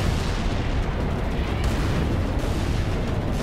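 Dense, continuous battle noise from Halo 3, with rapid gunfire and booming blasts blended into a loud, unbroken roar lasting several seconds.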